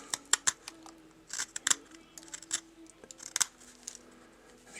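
A knife carving into a wooden feather, heard as short, crisp cutting clicks and scrapes in quick bursts, close to the listener and without speech.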